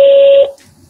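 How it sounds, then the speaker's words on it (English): A single steady electronic beep on a phone line, the prompt tone of a party-line voicemail system, loud and sustained for about half a second, then fading into quiet line hiss. "Record after the tone."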